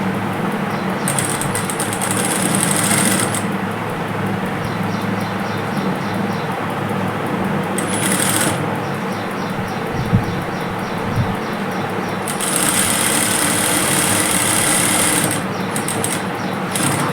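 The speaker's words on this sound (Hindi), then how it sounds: "इस तरह से एक सिलाई बीचों बीच लगा दी ताकि ये हिलेगा नहीं।" A sewing machine stitches fabric from an old saree onto buckram for an Anarkali dress, its motor running in a steady close whir, with several sharper high-pitched bursts as stitching speeds up.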